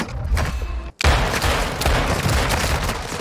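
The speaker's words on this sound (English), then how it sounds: "Taking effective fire." Dense bursts of automatic gunfire in Warzone 2, loud and close, with rapid overlapping shots broken by a brief silent gap before the barrage resumes.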